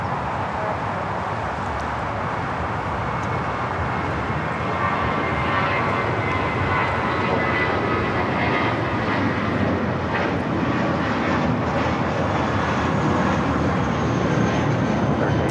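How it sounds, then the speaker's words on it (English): A Viva Aerobus Airbus A320 airliner taking off at Los Angeles International Airport, bound for Guadalajara: a loud, sustained broadband jet engine roar that holds steady and swells slightly as it continues. "This is Viva Aerobus 511 taking off to Guadalajara on the A320"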